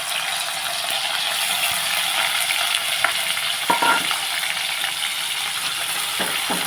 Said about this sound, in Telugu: ఇప్పుడు మనం ఇందులోనే కడిగి పెట్టుకున్న నెత్తలో వేపేసుకున్నాము